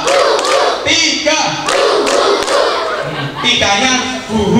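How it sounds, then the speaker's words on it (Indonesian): Children in an Islamic primary school Isra Mi'raj gathering clap in a quick group burst on command, the rhythmic claps mixed with loud chanting voices and crowd noise. "Tepuk tiga"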